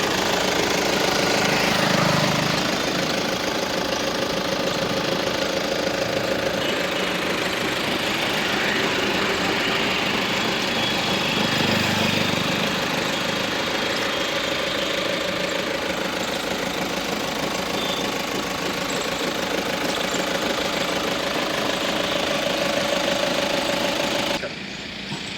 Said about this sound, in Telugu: బండి అనేది సింగిల్ సెల్ఫ్లో స్టార్ట్ అవుతుంది.